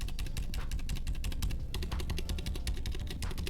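Steady, rapid typing on the original stock keyboard that came before a GMMK Pro build, a dense run of close, crisp key clacks filling the whole stretch with no talk.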